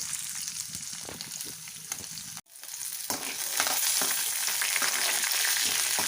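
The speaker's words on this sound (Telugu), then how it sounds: "సో వేరుశనగలు బాగా వేగాయండి, పచ్చిమిర్చి కూడా బాగా వేగింది" Peanuts and green chillies fry in hot oil for putnala chutney, a steady broadband sizzle with scraping stirs, briefly cutting out midway and then returning louder and denser.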